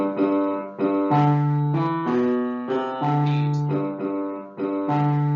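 A Baroque ciaccona ground bass line in a modified form, played alone on sustained instrumental tones as accompaniment for a tenor duet, moving in a steady repeating stepwise pattern of rising and falling notes.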